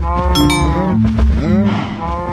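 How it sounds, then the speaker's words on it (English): Several cows mooing in the Minecraft video game, crowded together nearby, with long drawn-out lowing calls that overlap one after another, loud and steady with no talking. "Why are there so many cows crammed into the corner?"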